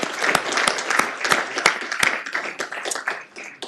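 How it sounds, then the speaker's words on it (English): Applause for a page in the Senate of Virginia chamber, a small group clapping with distinct sharp claps standing out, moderately loud and thinning toward the end. "Let's give a round of applause to our page."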